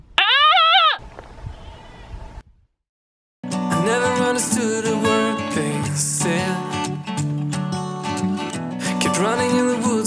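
Goats bleating loudly in a wild coastal area near a remote beach on Fuerteventura, several wavering cries at the start and then a dense, continuous chorus of overlapping bleats after a short pause.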